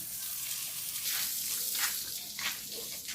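Strong flow of water running on a farm, a steady broad rushing wash that swells and fades slightly, close and fairly loud with no talk over it.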